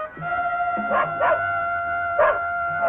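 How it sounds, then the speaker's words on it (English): A dog barks in a few separate bursts, moderately close, over a steady tonal hum from a night-time dramatic scene; no one speaks. "That terrible dog. He always barks when the old man stays up at night."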